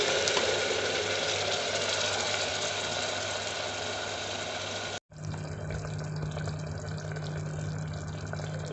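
Green pulao masala paste, a ground paste added to onions sautéed with salt in oil, bubbles and sizzles steadily in a pan, close and continuous, with a brief cut partway through and no talking.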